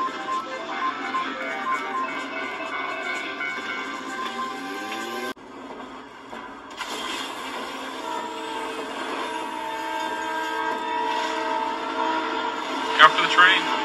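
A train passes close by, sounding its whistle in loud, sustained harmonic blasts over the rolling rumble of the cars. The sound breaks off briefly midway, then continues strong to the end.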